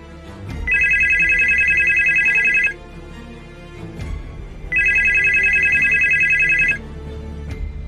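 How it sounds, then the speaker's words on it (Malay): A telephone rings in two long bursts of bright, trilling bells, each lasting about two seconds and separated by a short pause; it is loud and close, used as a sound effect in a Malaysian horror audiobook. "Tapi deringan itu nyata dan berulang."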